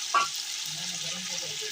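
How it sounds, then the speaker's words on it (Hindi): Green chilies frying in a pan with ginger, garlic and tamarind for a tahari dish: a steady, close hiss of sizzling oil with a brief stir or clatter at the start. "हरी मिर्च भी इसमें भून लेंगे"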